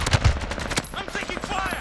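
Rapid bursts of automatic gunfire in the video game Warzone, a close, loud string of shots that tapers into scattered echoing reports and game sound effects.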